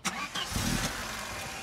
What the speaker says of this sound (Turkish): Çalışsın arabayı.